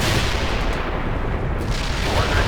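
An artillery barrage fires in the World in Conflict video game, a dense, loud wash of booming blasts and rumbling gunfire that keeps going without a break.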